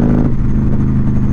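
Harley-Davidson motorcycle with a Stage 2 107 engine running under throttle, a loud, steady, deep rumbling drone held close up for a short stretch with no talk.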